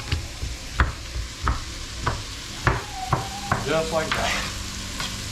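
Onions fry in a pot with a steady soft sizzle while a utensil stirs and scrapes in regular knocks, heard close, and someone speaks briefly partway through.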